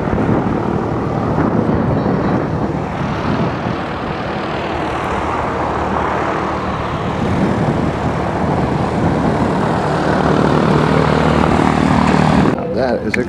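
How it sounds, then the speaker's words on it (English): A propeller airplane at an airshow drones loudly overhead in a continuous, rumbling roar mixed with heavy wind buffeting on the microphone, with a voice faintly audible underneath. "That is a crazy looking airplane."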